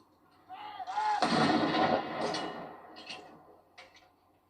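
A single heavy cannon boom from a gun salute for Prince Philip at Gibraltar, heard at a distance and rolling out over a few seconds with echoing decay.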